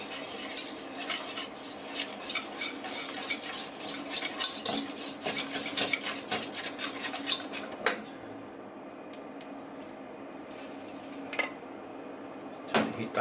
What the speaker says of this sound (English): I'm going to use a whisk just to help cream it up